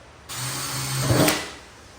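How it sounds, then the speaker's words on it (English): A power drill whirs up drilling holes in a Honda Civic trunk lid, its pitch rising and falling as it bites in, then winds down to a faint hum. "go ahead and drill the holes"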